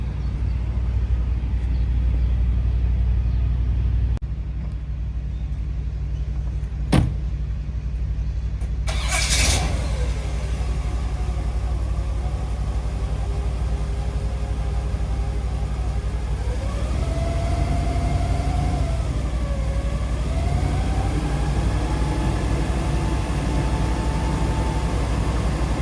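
A 1965 Chevrolet Corvette coupe cranks briefly and fires up with a sharp burst, then settles into a steady, loud idle that revs and dips; no talk, just the engine close by.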